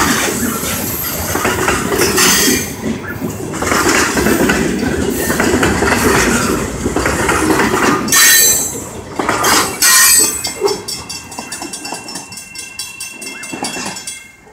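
A Winchester & Western freight train rolls past close by in Fairton, with loud rumbling wheels and several sharp bangs of couplers knocking together, then squealing wheels and a rhythmic clickety-clack as the cars continue by.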